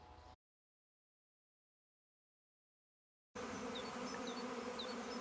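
A swarm of bees on the move near trees buzzes in a brief burst, then after a few seconds of dead silence returns as a dense, steady, close hum with individual insects whining past.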